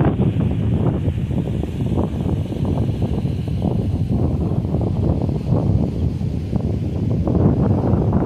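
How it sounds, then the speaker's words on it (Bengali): Strong wind gusting beside the rough, churning Ganges ahead of Cyclone Remal, a steady loud roar of buffeting air on the microphone that fills the whole stretch without a break. "তার আগে এত উত্তাল গঙ্গা এবং এত প্রচণ্ড জোরে হাওয়া চলছে"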